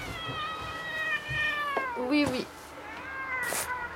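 A cat meows several times, drawn-out and plaintive, close by, while a person speaks briefly nearby.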